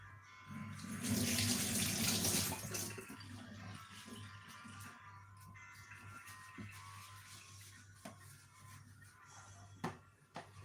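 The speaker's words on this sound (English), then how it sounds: "So I'm gonna wash my hand now." Hands washed under a running kitchen tap, a loud steady stream of water for a few seconds that then quietens to a softer flow with small clinks, no speech.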